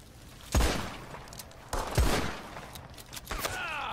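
Gunshots from Red Dead Online free-aim shooting practice: two loud, sharp reports about a second and a half apart, followed by softer scattered shots and a ricochet-like whine near the end.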